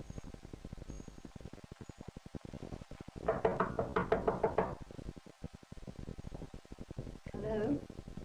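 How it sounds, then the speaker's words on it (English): A series of about eight firm knocks on a door from outside, heard in a quiet indoor room, a short burst of evenly spaced raps followed by a brief fainter sound. "she heard a knock outside."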